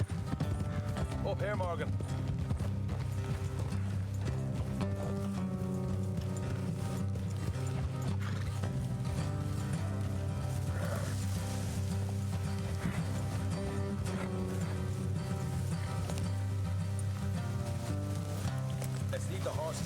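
Horse hooves clip-clop steadily in Red Dead Redemption 2 as riders travel along a road, the rhythmic beat running continuously under game music and occasional spoken dialogue, with a brief whinny.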